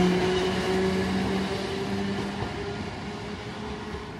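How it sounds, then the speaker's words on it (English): A train pulls away from a station platform in Japan, with a steady low rumble and rolling hum and faint tonal whine that slowly fade as it leaves. "Oh, this train is going."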